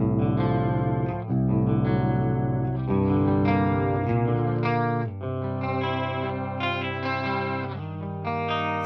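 Electric guitar through the Aurora DSP Rhino plugin's Dreamy Clean preset, metal-oriented amp software, ringing sustained chords thick with chorus, echo and reverb, played continuously and loud with no talking.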